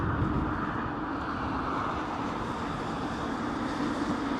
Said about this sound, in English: listen to that GE90 whirring away, man. They can't run it any higher than that. They're doing an idle run test